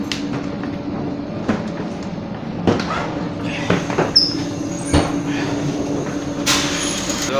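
Inside a moving regional train in Germany, a steady low rumble of wheels and carriage noise continues, with intermittent clanks and rattles, faint squeaks and a brief hiss near the end.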